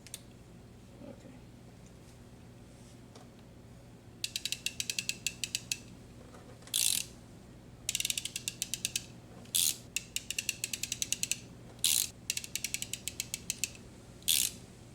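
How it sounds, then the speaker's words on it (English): Repeated bursts of fast ratcheting clicks from a plumbing tool working a car AC hose end, in several quick runs separated by brief pauses over a low steady hum, close and fairly loud. "This is a plumbing tool."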